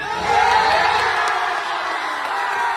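A large crowd cheers and yells together, a loud, dense roar that swells early and then holds steady with whoops mixed in.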